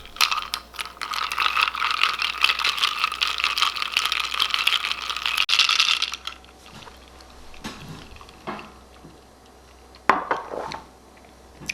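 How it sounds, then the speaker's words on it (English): A chai tea latte with soy milk is stirred with a reusable straw, giving a steady clinking, rattling stir for about six seconds, followed by a few scattered clicks and knocks. "And now for the best part. We stir it."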